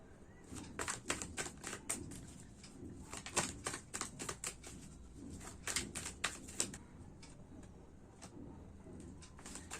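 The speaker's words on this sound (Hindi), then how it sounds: "आगे हम और भी कार्ड्स निकालते हैं।" Tarot cards drawn and handled from a deck, with a rapid run of crisp papery flicks and taps close by, clustered in quick bursts over a soft steady background.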